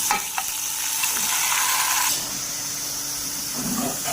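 Oil sizzles loudly in a pan as garlic paste goes in, a bright frying hiss with a few scraping stirs, then settling to a quieter sizzle.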